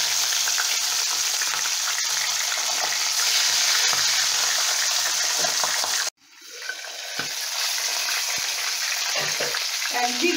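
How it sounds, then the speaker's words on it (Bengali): Pabda fish fry in hot mustard oil in a kadai, a loud steady crackling sizzle that cuts out abruptly midway and then builds back up to a full spatter. "গরম হয়ে গেছে, এবার মাছগুলো আমি একে একে ভেজে নিচ্ছি।"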